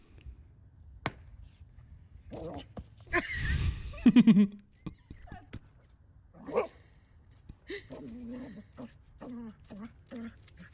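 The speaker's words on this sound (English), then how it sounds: "This dog is trying to learn how ice works." A dog on ice gives short barks and yips, then high whimpers and whines, in scattered bursts against a quiet indoor background.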